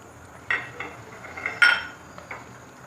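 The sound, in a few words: nuts being added to dessert in a pan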